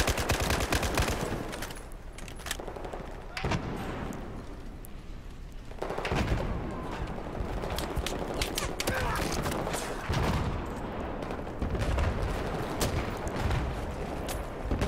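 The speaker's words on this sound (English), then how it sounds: "We have mortars coming in from somewhere." Incoming mortar fire during a competitive video game match lands amid continuous rapid gunfire, dense overlapping shots and blasts filling the scene, with people talking over it.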